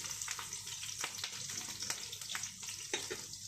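Onion and garlic sizzling and frying steadily in a pan, with occasional stirring clicks and scrapes, a close, continuous crackle heard alone.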